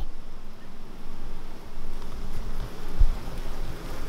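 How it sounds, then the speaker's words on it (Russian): Honey bees buzz at an apiary hive whose colony is suspected of foulbrood, a steady low droning hum that stays continuous throughout, close by and moderately loud, with no voices. "Пчелы."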